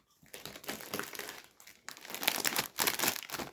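A plastic bag of Lulu cheese-flavoured chips crinkles and crackles as it is handled and opened, loud close crumpling in uneven bursts with a short pause in the middle.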